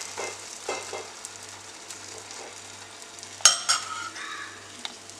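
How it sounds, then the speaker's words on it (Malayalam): Cabbage dosa batter sizzles faintly on a hot pan while a ladle spreads it, with soft scrapes and a sharper metallic clink, over a low, steady background hum. "നമ്മൾ പതുക്കെ തവി കൊണ്ടിട്ട് ചെറുതായിട്ടൊന്ന് ഇങ്ങനെ ഷേപ്പ് ചെയ്ത് കൊടുക്കുക."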